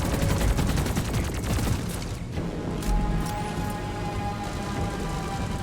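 Relentless automatic turret fire pounds the Dreadnought in the video game Deep Rock Galactic, a dense, continuous barrage of rapid gunshots with heavy booming impacts throughout, loud and close with no pauses.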